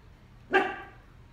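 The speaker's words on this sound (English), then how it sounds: "That's my dog." A dog gives a single sharp bark, fairly close and clear, rising abruptly and then fading against a quiet indoor background.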